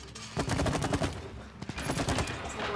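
Rapid repeated shooting in the video game It Takes Two, a dense rattle of shots in quick bursts, moderately loud and continuous, with game effects mixed in.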